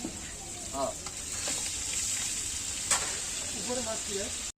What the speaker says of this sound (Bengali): তাহলে ফ্রাইটা তো আরো একটু ভাজতে হবে, তাই না ভাই?